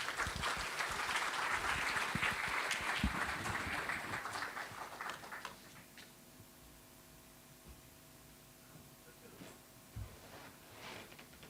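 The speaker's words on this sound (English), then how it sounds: "Let's have another round of applause" Audience applause at an architecture talk on sustainable design, loud sustained clapping for about five seconds that then fades to a quiet room with a few scattered claps.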